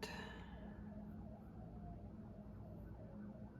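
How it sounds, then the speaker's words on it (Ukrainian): A fire engine siren wails in the distance, a faint, steady wavering tone sitting under a constant low rumble of background noise for a few seconds as the truck passes. "пожежна машина їде"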